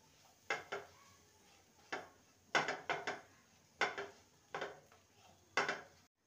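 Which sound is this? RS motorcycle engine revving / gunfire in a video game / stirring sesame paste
stirring sesame paste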